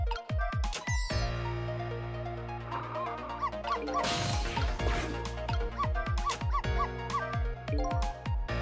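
A small dog barks in a video game, giving a series of short sharp yaps over busy game music and effects.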